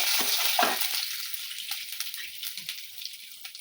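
Bay leaves and panch phoron stirred into a little hot oil, a bright hissing sizzle that is strongest at the start and then thins out, with light crackles and spoon taps.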